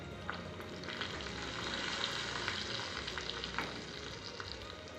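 Steady sizzling of cumin seeds tempering in hot oil, a continuous crackling hiss with small pops, fairly close and with no voices.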